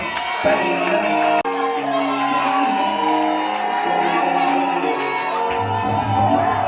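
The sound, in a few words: wedding guests applauding and cheering for the groom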